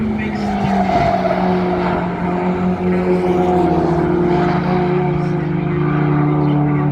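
Classic race cars speeding past at Silverstone, a loud sustained engine drone with shifting pitch as the cars run close together, under a commentator's voice.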